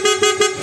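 A newly installed PIAA horn on a Honda ADV160 scooter blares in three quick, close, loud honks, a steady nasal tone pulsing rhythmically.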